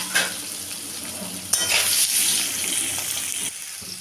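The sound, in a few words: potato and kohlrabi frying in pan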